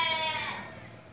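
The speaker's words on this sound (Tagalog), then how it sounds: "Kambing at tupa." Goats and sheep kept as farm animals bleat in a drawn-out, wavering call that fades slightly over about a second, heard alone without talk.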